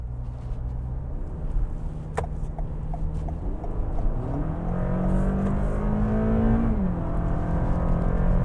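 A 2021 Toyota Camry XSE AWD accelerates hard on a highway. Steady road and wind noise lies underneath, and the engine drone climbs in pitch toward redline before it drops off as the car shifts.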